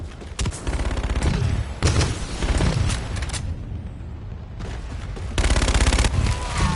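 Sustained automatic gunfire from Call of Duty: Infinite Warfare, loud and close, in several long bursts separated by a brief lull near the middle.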